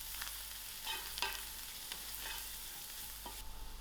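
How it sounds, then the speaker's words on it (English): A soya prawn masala is being stirred as it fries in a pan, giving a faint steady sizzle with soft scraping strokes of the spoon at intervals and no talking. "I'll give this a good mix."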